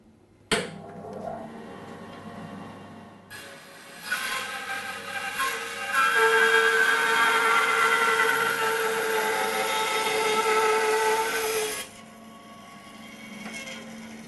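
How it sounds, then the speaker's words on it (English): A Record Power BS350 bandsaw with a 1.5 horsepower motor cross cuts a 3-inch oak board. The motor runs first, then the blade bites in with a loud, sustained cutting whine for about eight seconds before easing back to the idling motor. "we're just going to cross cut a bit of 3-inch oak, which will enable us to cut a ball blank out"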